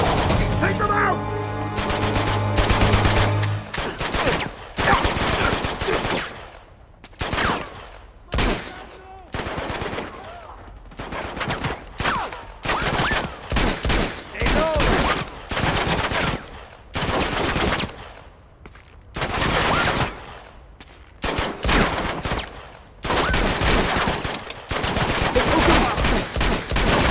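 Rapid gunfire from the action video game Uncharted, in a tire-shooting chase sequence: dense, loud bursts of automatic shots and impacts repeat almost continuously, broken by short gaps, with game effects throughout.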